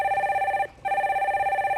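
A telephone rings as a call to a live broadcast phone-in is put through: a steady, buzzing electronic ring that breaks once briefly and then resumes, loud and close.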